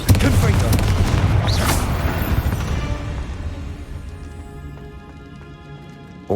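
A Confringo fire-blast spell explodes in Hogwarts Legacy: a loud booming burst at the start that rumbles and slowly fades over several seconds into quiet.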